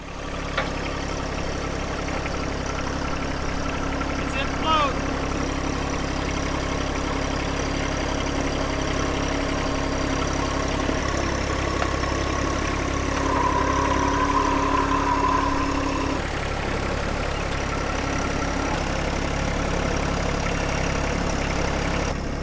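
A snow blower engine runs steadily while clearing snow down to the grass along a lawn edge, its idling drone continuous and fairly close throughout, with a brief higher whine partway through.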